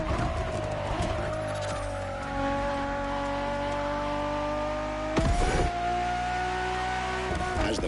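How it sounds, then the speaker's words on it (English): A Ferrari Enzo's engine in The Crew Motorfest: a loud, steady, high-revving engine howl, close and continuous, broken by brief rough bursts near the end. "Ferrari Enzo, fourth in the supercar bloodline"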